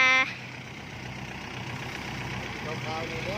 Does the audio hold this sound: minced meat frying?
no